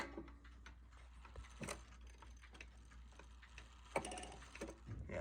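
Mechanical ticking from a clock being set and wound during a round of changing clocks for daylight saving, faint and steady at close range over a quiet room hum, with no talking.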